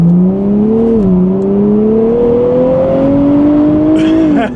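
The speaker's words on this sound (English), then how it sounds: "When that turbo kicks in, it's like quick." A 2023 Nissan Z with a turbo engine and automatic gearbox accelerates in standard mode, heard from inside the cabin as a loud, close engine drone that climbs steadily in pitch, dips once, then keeps rising.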